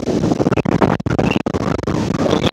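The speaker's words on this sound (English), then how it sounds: "very windy." Strong wind on a beach at Plattsburgh buffets the microphone in loud, gusty roars with brief dips between blasts, constant and close throughout.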